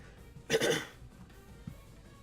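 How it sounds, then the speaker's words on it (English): A single short cough, close and fairly sharp, followed by quiet room tone. "Excuse the cough there."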